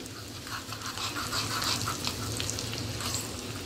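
Hot oil with red chilli powder, a tempering, crackles and sizzles steadily with quick popping bursts, fairly faint and continuous, no voices.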